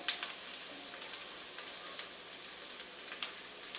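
Shrimp frying in a pan for pesto with asparagus, a faint steady sizzle with soft crackles and occasional small pops spread through the clip, no voices.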